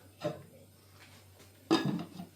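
A lid is set back onto a slow cooker while a roast beef dinner is made, giving two short clattering knocks about a second and a half apart, the second louder, with no talk.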